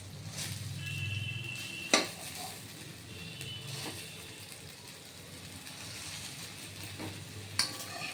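Pea dal (motor dal) fritters fry in a pan with a low, steady sizzle, broken by a couple of sharp utensil clinks against the pan. The sound is quiet and close, with no talk.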